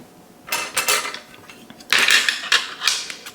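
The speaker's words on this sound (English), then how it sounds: "So I'm going to cut that first piece off." A knife saws through the crusty outer edge of a bone-in prime rib roasted over an open fire, giving two bursts of crisp, scraping cuts close up, with no voices.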